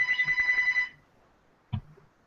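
Telephone ringing during a live word-game stream: one loud trilling ring of about a second cuts off, followed by a quiet pause and a brief knock-like thump.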